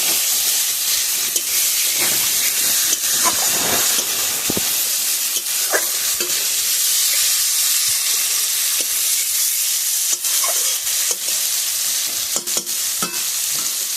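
Spice paste fries down in a pan with a constant close sizzle and hiss, while a spoon scrapes and stirs in irregular clicks; no one speaks.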